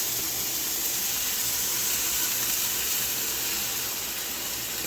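Food sautéing in a hot pan over medium heat for chicken noodle soup gives a steady, fairly loud hiss and sizzle of steam, continuous throughout with no talking.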